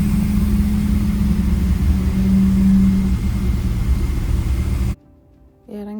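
At Dubai airport, an airport transfer cart drives between gates with a loud, close, steady motor rumble and whine. The noise cuts off abruptly near the end, leaving brief quiet before a faint tone.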